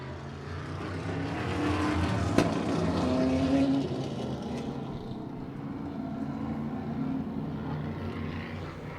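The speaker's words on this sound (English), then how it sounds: "Pace cars in, and here they come out of turn number 4, ready to get this one underway." Race cars pour out of turn four as the pace car pulls in at the start of a 2023 WGVR Expo race, a dense, steady engine roar with passing drones and a brief sharp crack, under faint announcer talk.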